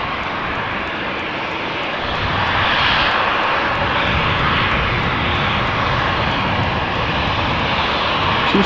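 A KLM passenger jet, registration PH-EZP, a 14-year-old airliner first flown in March 2010, roars loudly at Schiphol Airport as steady engine noise that swells after a couple of seconds and holds strong throughout, with no voices.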